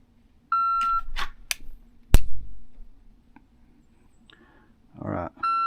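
Shot timer beep starting a dry-fire draw with a Sig X5 P226 Legion, a short tonal beep near the start, followed by sharp clicks, a loud snap and rustling handling noise.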